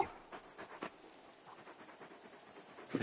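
A very large dog in Final Fantasy 16 pants softly in quick, breathy puffs, close but quiet, with a faint whimper near the end.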